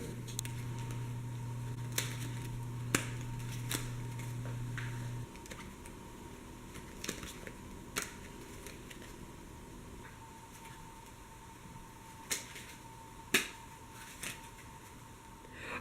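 Playing cards handled through a flourish, soft sparse clicks and light snaps of card edges scattered across a quiet stretch, close and faint, with no talking.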